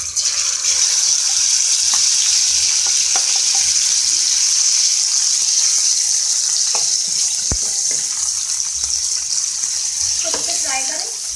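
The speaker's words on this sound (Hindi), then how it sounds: "बस हल्का सा फ्राई करना है। मैं इसमें चिकन ऐड कर रही हूँ।" Chicken sizzles as it fries in a pan for a Hindi-style chicken mayo sandwich, a steady loud hiss running throughout with occasional stirring clinks and brief background voices.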